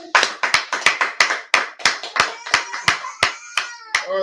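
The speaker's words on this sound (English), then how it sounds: "Alright, clap it up." Sharp handclaps ring out in a steady rhythm, about a dozen loud, close claps evenly spaced, with a voice briefly heard at the end.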